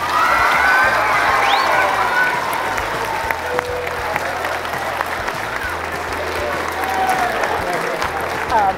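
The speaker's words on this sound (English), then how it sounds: "Give him a round of applause." An audience applauds an award-winning band teacher, with loud, dense clapping running throughout and a few scattered cheers mixed in.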